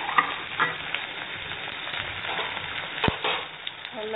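Chopped onion, asafoetida and fennel seeds frying in hot oil, a continuous close crackling sizzle with a few sharper pops and a spoon clack, no talking over it.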